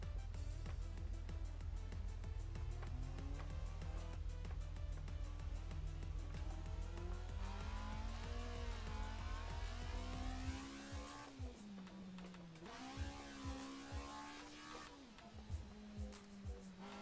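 A Honda FD6 (Civic) with VTEC revs hard in the Assetto Corsa racing game on a mountain road, its engine note climbing steadily for about ten seconds, then shifting and rising again with tire noise, loud and continuous with no talk.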